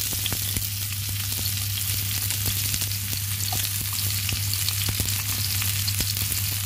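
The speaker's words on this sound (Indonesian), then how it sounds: "Tumis bawang merah ya" Sliced shallots sizzle steadily in hot oil in a pan, a constant loud frying hiss with faint stirring scrapes, no voices.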